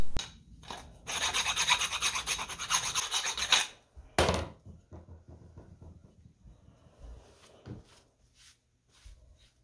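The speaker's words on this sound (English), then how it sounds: "I'm just going to hit up the bolt holes with a round file just to get that squeeze out that was in the middle as well" A round file rasps through bolt holes in a boat's backing plate to clear squeezed-out material, with close, steady scraping strokes for a few seconds, then a sharp burst followed by quieter, intermittent rubbing and taps.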